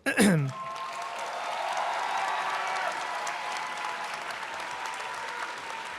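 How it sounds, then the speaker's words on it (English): A large audience at a Middle Eastern and North African student graduation celebration applauds steadily, dense sustained clapping filling the hall after a brief voice at the start. "Let's give our students a final round of applause."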